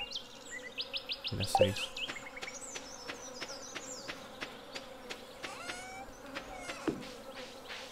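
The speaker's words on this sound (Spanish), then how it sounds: "No paro de escuchar moscas." Flies buzzing in the video game Stardew Valley: a faint, steady insect drone alongside repeated ticking game sounds and small chirps, with someone speaking briefly.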